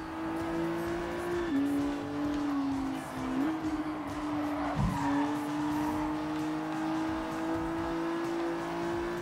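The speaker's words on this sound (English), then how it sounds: "I'm not sure if that's me making all that noise or it's them. The tire screeching." Race cars in Gran Turismo Sport scream along at full throttle with a steady, loud engine whine, while tires squeal and skid through a turn midway, the pitch dipping and recovering.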